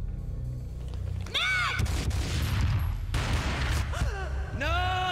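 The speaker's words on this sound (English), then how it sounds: "A gunshot boomed and she fell down in slow motion." Gunfire in the Max Payne video game finale, several heavy booming shots and thuds mixed with whooshing sweeps and tonal game effects, loud and close over a low music bed.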